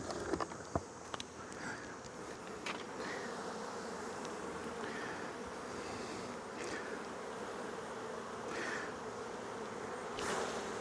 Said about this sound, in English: Lots and lots of bees. Holy moly.